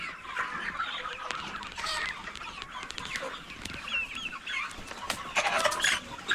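Country chickens on a farm clucking and calling in a busy, continuous chorus, with short sharp squawks scattered throughout and no talking.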